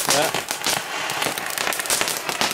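New Year's Day fireworks and firecrackers go off in a close, loud burst of rapid crackling pops, with a person talking over the din.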